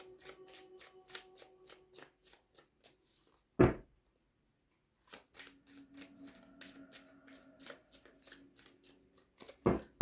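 Brisk riffling and snapping of a tarot deck being shuffled, repeated in quick bursts with a short pause, close and fairly quiet.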